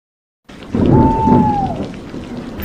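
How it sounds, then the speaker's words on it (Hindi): Heavy rain roars steadily after a brief silence, with a low rumble of thunder rolling underneath and a thin tonal whine sweeping briefly through the middle. "तेज बारिश और बिजली की गरगराहट"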